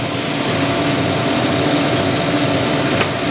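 A Clausing 6903 14-inch metal lathe runs steadily, a continuous mechanical whir and hum that stays loud and even throughout with no talking.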